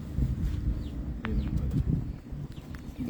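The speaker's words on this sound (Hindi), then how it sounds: "मेरे पास बड़ा लाइट वेट कबूतर है यार" Low, soft cooing of pigeons near a busy background of rustling and faint chirps.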